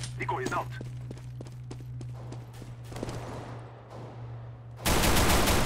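CS:GO gunfire from a CZ pistol: a quick run of sharp shots up front, then a burst of heavier fire and a loud, dense blast of shooting at the end, all under a steady low hum.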